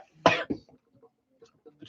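A person coughs in a short harsh burst during a smoking session, followed by a few fainter coughs and throat sounds, then another loud cough at the end; no words are spoken.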